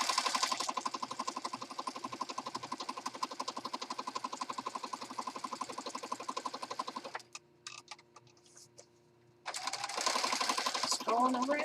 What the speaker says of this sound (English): I'm just going to stitch around the frame here.